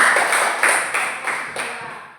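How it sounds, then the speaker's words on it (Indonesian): A school class gives a short round of applause, a few distinct sharp clap bursts about every third of a second, fairly close and alone without talk. "Tepuk tangan dulu"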